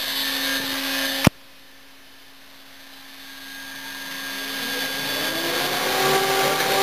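A CNC milling machine in a fab lab runs with a vacuum cleaner extracting dust; a sharp click cuts the sound, then a steady roaring whine builds gradually louder and stays continuous, with no talking.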